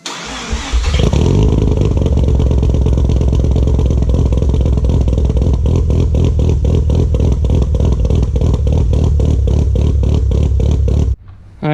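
Mazda RX-7 FD rotary engine cranks briefly, then fires on fresh spark plugs and settles into a loud, choppy, pulsing idle that runs steadily close by before cutting off near the end.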